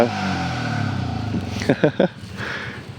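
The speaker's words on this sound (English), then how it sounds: "I kind of lost myself in the revving there of the motorbike" A motorbike engine revs in a few sharp bursts, loud and close, rising over steady background engine noise before dropping back to an idle.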